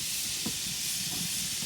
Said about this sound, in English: That beautiful sizzle, that means things are happening around here.